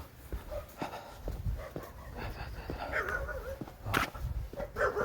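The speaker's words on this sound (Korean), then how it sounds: "강아지들이 짖는 소리가 합창처럼 들립니다" Several dogs barking and whimpering in a chorus at a distance on an early-morning walk in cold weather, with intermittent yelps over a steady outdoor background.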